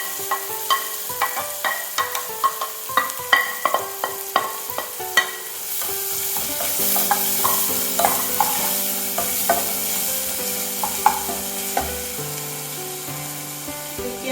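Onion, green chilli, garlic and ginger fry in a pan for a Kerala okra (vendakka pollichathu) dish. A utensil scrapes with a repeated close stirring rhythm over a steady sizzle, and no voices are heard.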